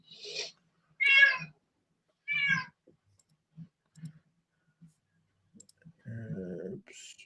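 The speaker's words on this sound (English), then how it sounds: "The loud cat." A cat meows loudly indoors, sounding several separate sharp, close calls with pauses between them and soft clicks in the gaps, ending in a longer, lower drawn-out yowl.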